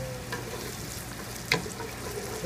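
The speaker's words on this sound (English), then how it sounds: "Again, don't forget to stir your vegetables." Vegetables for a bacon cheddar potato soup fry in a pot while being stirred: a soft, even sizzle with one brief scrape of the utensil midway.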